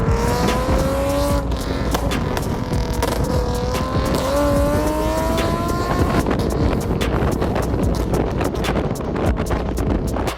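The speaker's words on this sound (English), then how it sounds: "I've been dying to get a video of the exhaust, like revvings and stuff" A Lexus with a Tsudo midpipe, PPE headers and no catalytic converters revs repeatedly, its exhaust note rising and falling in loud sweeps with wind buffeting the microphone.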